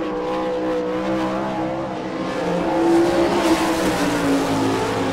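A sprint car running a qualifying lap at the Rossburg, Ohio speedway, its engine a loud, sustained snarl with harmonic lines shifting in pitch as it swings through the turns, no voices over it.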